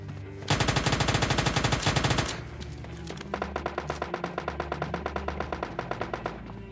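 Automatic weapon fire in PUBG Mobile Lite: a dense, loud burst of rapid shots lasting about two seconds, then a steadier string of evenly spaced single shots.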